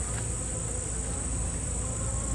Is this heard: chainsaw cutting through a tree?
no